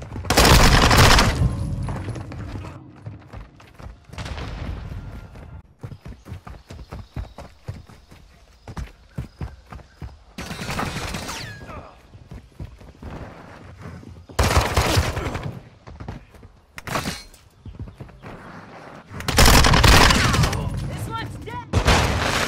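Bursts of rapid automatic gunfire in Call of Duty Modern Warfare 2 multiplayer, loud and close, with sharp single shots and clattering footsteps between volleys.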